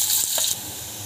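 Chopped onion sizzles in hot oil in a pan for a spicy cluster bean thecha. A bright, hissing fry lasts about half a second and then drops to a faint, quieter simmer.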